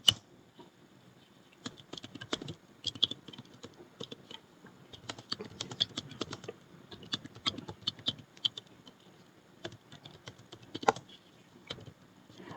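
Python code is typed on a computer keyboard in close, quiet bursts of rapid key clicks separated by short pauses, with no talking over it.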